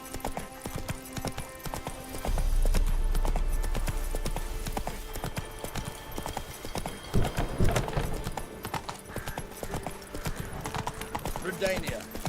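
Roach, a horse in The Witcher 3: Wild Hunt, trots with a steady clip-clop of hooves, and a whinny is heard partway through, with someone speaking at times over game sounds.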